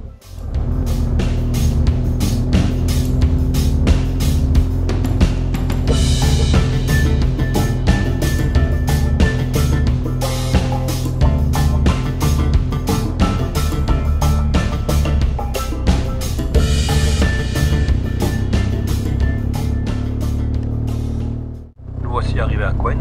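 Car engine and road noise on a mountain road in Corsica's Alta Rocca, close and constant, with someone talking over it throughout and a short dip near the end.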